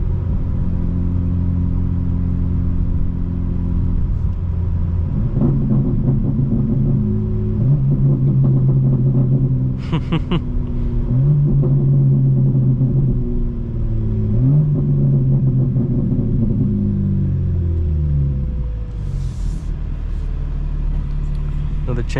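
A 2025 BMW M4 Competition xDrive rumbles while driving, with a deep steady engine drone that swells into rising revs mid-drive, heard from inside the cabin.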